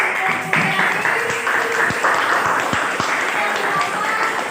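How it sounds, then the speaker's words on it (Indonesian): Classroom applause during a mathematics lesson, a dense wash of students clapping with a few sharper hand claps standing out, steady and fairly loud throughout. "Kasih tepuk tangan dulu."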